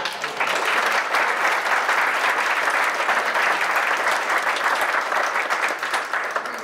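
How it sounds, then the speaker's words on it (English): A film screening audience at a public health department event bursts into sustained, dense applause, loud and even throughout with no talking over it. "And can we applaud again?"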